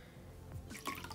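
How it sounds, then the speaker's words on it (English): A beauty blender sponge dipped into a bowl of water gives soft, faint drips and small liquid splashes, a few quiet wet sounds close by. "I have a bowl of water right here in front of me. I'm just going to dip the sponge in"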